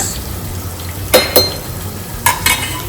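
Rice with oil is stirred in a pot, giving a few short scraping, sizzling strokes over a quiet background, with two pairs of louder stirs.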